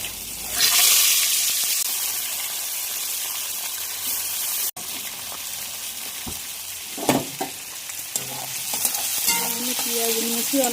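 Sliced onion, garlic, dried red chillies and green chillies fry in hot oil in a home kitchen, a loud, steady sizzle with a sharp burst at the start and occasional stirring clinks later on.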